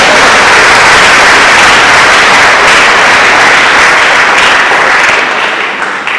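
A church congregation at a gospel service claps and applauds loudly and continuously, a dense close crowd of hands that thins slightly at the very end.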